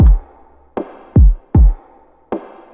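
A pop-ballad drum loop built in FL Studio: a thumpy, booming kick alternates with reverb-soaked percussion hits, about five strikes over a few seconds, each leaving a long washy tail. No voices.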